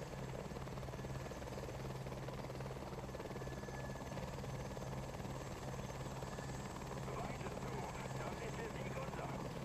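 Helicopter in the War Thunder video game, a steady loud rotor drone held throughout with no pause, and people talking over it.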